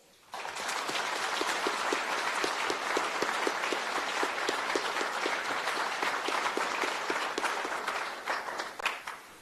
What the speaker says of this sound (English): So please join me in thanking them in a round of very warm applause.